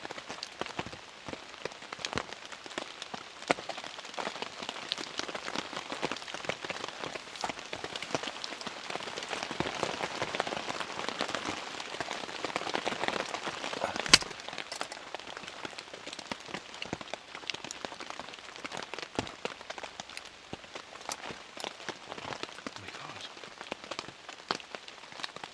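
Steady rain patters on a tent during a camping night in the woods, a dense, continuous drumming of drops with occasional sharper taps, moderately loud and unbroken throughout.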